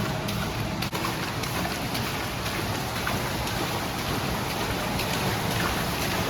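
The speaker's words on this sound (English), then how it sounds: "the roar of water gets louder and louder" Water gushing from a concrete pipe inside an underground storm drain, a steady, dense roar with echoing acoustics that holds constant throughout without talk.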